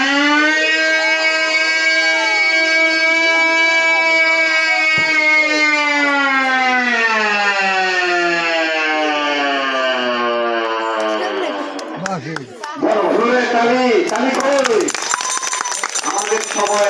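A jute mill shift siren wails loudly with many stacked harmonics, holding a long steady tone for about twelve seconds before winding down and breaking off, followed by a brief burst of rising and falling siren sweeps.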